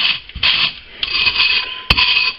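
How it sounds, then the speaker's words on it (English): Cut edge of a glass bottle rubbed against sandpaper by hand, giving a series of harsh, close gritty rasping strokes with brief pauses between them, loud and alone without talk. "Now I'm just going to put it on the sandpaper and I'm going to basically sand it."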